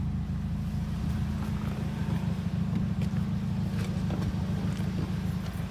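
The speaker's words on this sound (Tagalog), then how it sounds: "Idle lang siya guys, naka-idle 850 rpm." A Toyota Corolla GLi with a 4A-FE engine idling at 850 rpm, a steady low droning hum with an even, unbroken rumble and faint higher hiss, heard from inside the car.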